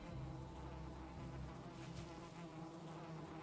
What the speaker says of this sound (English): I think I hear bees